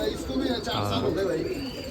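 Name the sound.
pigeons cooing at a pigeon festival in Nashik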